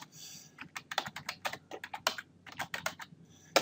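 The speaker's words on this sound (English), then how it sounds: "I just type in tangentCVWin at the mel command window" A computer keyboard typed in a rapid run of about twenty crisp, close keystrokes over a few seconds while a command is entered, with a slightly louder final key press and no speech.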